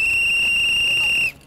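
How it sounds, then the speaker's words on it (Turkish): A toy whistle blown in a steady, piercing shrill tone for a bit over a second, then cut off abruptly, close and loud in a tent setting. "Düdük var bir de."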